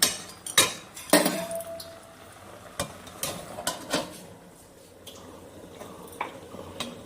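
Pot lid set down over a simmering pot of pumpkin, Malabar spinach and prawn curry, giving a couple of sharp metallic clinks and clatters up close, then quieter kitchen handling noises.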